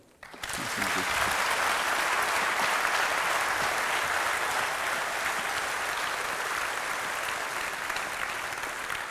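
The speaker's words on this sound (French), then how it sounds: "Je vous demande de l'applaudir." An audience at a French conference on artificial intelligence breaks into sustained applause that starts abruptly and holds at an even, dense clapping level for several seconds, heard from within the hall.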